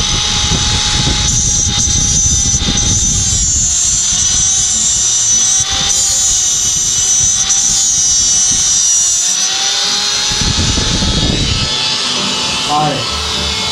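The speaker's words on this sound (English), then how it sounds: "what is this? The tungsten grinder." A tungsten electrode grinder runs in a welding shop, giving a loud, steady high-pitched motor whine with a rough grinding hiss, while people talk nearby.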